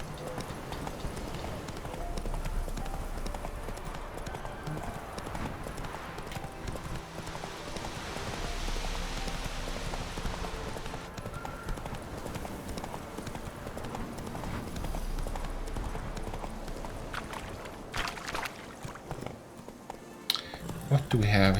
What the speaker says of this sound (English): Making my horsey run away.